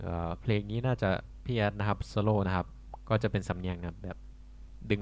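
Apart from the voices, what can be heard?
None of the usual background noises is heard.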